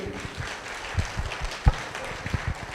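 A couple of people clap sparsely and unevenly at a free Heartfulness meditation session held by Shri Ram Chandra Mission in Metpally. The claps are fairly quiet and spaced apart against a faint room background.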